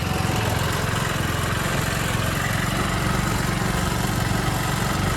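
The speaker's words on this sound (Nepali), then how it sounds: "आज चाहिँ हाम्रो गाडी भाइले चलाइरहेको अवस्था छ।" A Nepal-made buggy car's engine runs continuously at close range, a loud, steady rattling drone with constant vibration and no pauses or talking.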